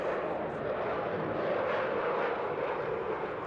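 An RAF Typhoon jet at an airshow, its steady broadband engine roar loud and continuous throughout without change, with no voices over it.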